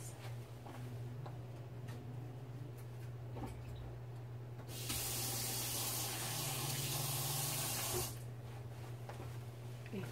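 Tap water gushes steadily for a few seconds while a chalk stencil is rinsed, a loud broadband hiss that starts abruptly and cuts off, over a constant low hum.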